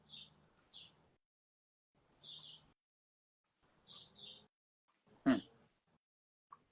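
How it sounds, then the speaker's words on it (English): Birds chirping in the background, with short high tweets repeated in small clusters across several seconds and one louder nearby thud partway through. "I'm getting distracted by the birds in the background."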